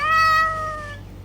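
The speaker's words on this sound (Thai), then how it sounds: "ขอบคุณที่ส่งแมวมาให้หนูนะ" A single clear cat meow, close and fairly loud, rising then trailing off over about a second, heard alone with faint room hum behind it.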